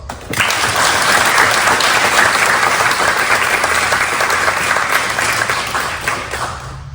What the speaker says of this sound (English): let's get a quick round of applause.